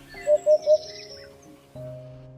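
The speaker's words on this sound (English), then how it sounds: "These birds, known for their distinctive sound, are Israel's national bird and are found worldwide." A hoopoe in Kaziranga National Park gives three quick, even hooting notes, clear and fairly close, followed by a softer lower hum and quiet background.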